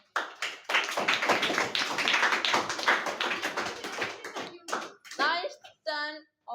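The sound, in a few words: class clapping for a student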